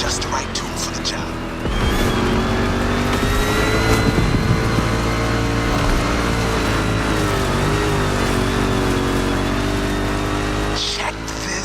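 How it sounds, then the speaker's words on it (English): A rally raid prepped Ford Mustang GT in The Crew Motorfest drones loud and steady, its engine note rising gently and holding for several seconds before cutting off near the end. "Yet another one of my rally raid prepped Mustang GTs, just the right tool for the job."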